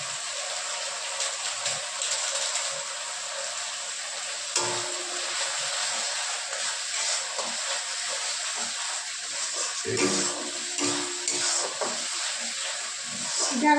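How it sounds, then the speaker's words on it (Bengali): Kashmiri chilli powder hits hot oil for a Bengali katla fish head curry, making a continuous bright hissing sizzle with faint stirring sounds and a quiet voice now and then. "তেলটা ছেড়ে দিয়েছে, এর মধ্যে আমি কাশ্মীরি লঙ্কার গুঁড়ো মেশাবো"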